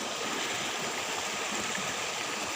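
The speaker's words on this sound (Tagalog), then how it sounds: "Ito yung maliit na sapa." A small stream in a rural part of Cebu flows steadily, a continuous bright rush and babble of water, close and even, with no voices.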